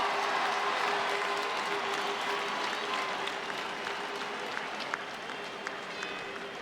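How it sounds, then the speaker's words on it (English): A crowd at a Munster hurling final ceremony, Waterford versus Limerick, applauds and cheers at moderate distance, a dense steady wash of clapping with a faint sustained tone under it that slowly fades. "a big cheer for Justin McCarthy."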